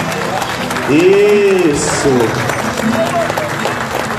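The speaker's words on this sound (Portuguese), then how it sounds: "vamos aplaudir a São Sebastião" A church congregation at a Santos Reis feast claps for São Sebastião, a sustained patter of hands under a leader's speech and a singing voice.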